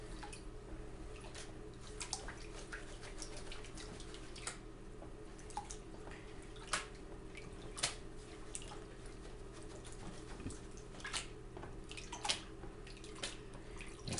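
Water sloshing and trickling as gold paydirt is washed, with soft drips and splashes at close range over a steady low background, no talking.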